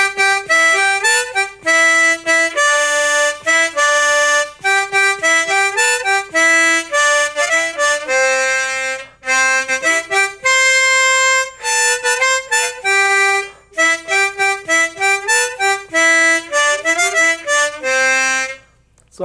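Close, loud harmonica plays a lively melody using tongue blocking, a melody line above and a lower octave line together, in quick phrases with brief gaps and no talking.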